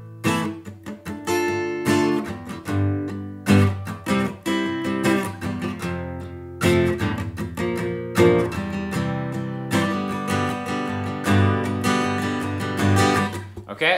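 Acoustic guitar strumming the verse chord progression of a song using barre chords, played alone, close and clear with steady rhythmic strums and ringing chords.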